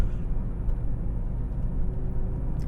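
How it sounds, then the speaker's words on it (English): A BMW E64 M6 convertible's engine drones steadily from inside the cabin through the soft top while driving, a loud continuous low rumble with no talk. "I love the sound of the engine. You can hear it very well through this soft top."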